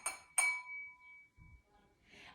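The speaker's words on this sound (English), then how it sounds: "When you tap an object like this glass, it makes the glass vibrate" A drinking glass tapped twice in quick succession, each strike giving a bright clink that rings on as a clear fading tone. A soft low thump and a brief faint rustle follow.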